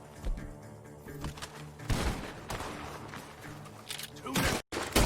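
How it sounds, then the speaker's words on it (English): Several sharp gunshots crack in bursts amid a busy Red Dead Redemption 2 soundscape with music and background noise, some shots loud and close, others further off. "The gunshots are coming from that barn."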